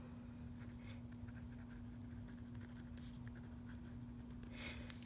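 A pen writes by hand in a Pocket Croc or ECLP planner, making a faint, steady scratching on paper with a few brief stroke taps, heard close but quietly over a low background hum, without speech.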